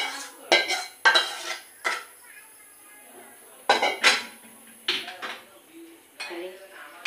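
Watermelon rind jelly is scraped out of a pot into a dish, with bursts of metal spoon clatter and scraping against cookware separated by short quiet gaps.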